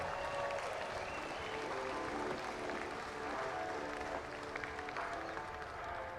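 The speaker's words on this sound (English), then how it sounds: "Race fans, a round of applause for the drivers who are ready to do battle here today." Race fans at the USAC Ted Horn 100 at Du Quoin State Fairgrounds applaud the drivers, a steady wash of distant crowd clapping with faint background voices in an open-air setting.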